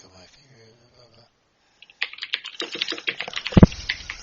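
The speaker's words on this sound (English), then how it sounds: "I'm typing out the answer right now." Computer keyboard typing, with quick irregular key clicks in a steady run that starts after a quiet stretch, picks up pace and includes one heavier keystroke near the end. Faint talk comes before the typing.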